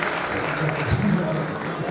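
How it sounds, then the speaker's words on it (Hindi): An audience at a church Christmas celebration claps steadily in a soft, continuous patter, while a voice talks over it. "एक बार जोरदार तालियां ना।"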